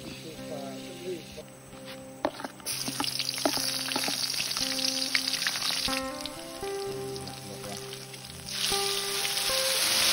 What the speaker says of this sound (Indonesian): Ini sebagian ikan goreng kita sudah masak.